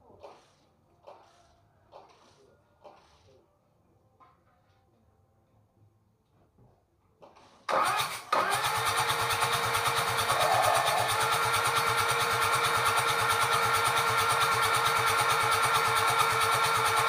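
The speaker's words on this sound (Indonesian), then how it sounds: "Oke, kita hidupkan dulu untuk mesin kijang" A freshly assembled Toyota Kijang 2L diesel engine is cranked after a few faint clicks and knocks, catching abruptly and settling into a loud, steady, close-up clattering diesel idle that continues to the end.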